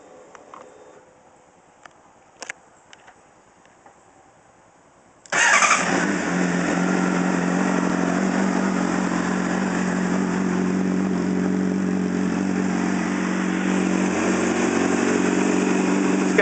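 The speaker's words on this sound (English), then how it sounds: "I'm gonna start it up and let you hear the exhaust a little bit on it." A Honda CBR600RR sport motorcycle fitted with an Akrapovic exhaust sits quiet, then fires up abruptly and settles into a loud, steady idle that continues to the end, close and alone without speech.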